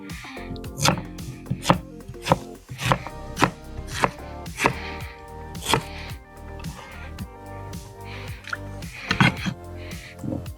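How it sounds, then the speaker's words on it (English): A knife dices peeled cocoyam on a cutting board for peanut soup, giving a steady run of sharp, close chopping knocks in irregular bursts with brief pauses between them. "Dice the cocoa."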